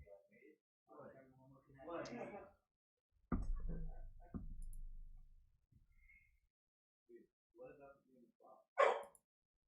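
A pet dog barks a few times in a home, signalling it needs to go out, with bursts of barking in the middle and a sharp yip near the end, amid a person talking nearby.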